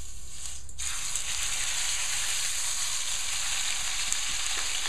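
A steak sizzles steadily in hot oil on medium heat, giving a dense, even crackle that starts just under a second in and keeps going without a break.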